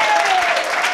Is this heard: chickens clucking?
no